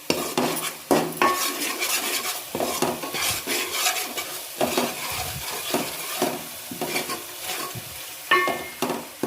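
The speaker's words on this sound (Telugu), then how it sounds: "ఉల్లిపాయలు పచ్చిమిరపకాయలు బాగా వేగాలన్నమాట. మంచిగా వేగాలి." Onions and green chillies fry and sizzle in a pan for a fish curry, with a spoon stirring and scraping against the metal in repeated close strokes and occasional clinks, and no talking.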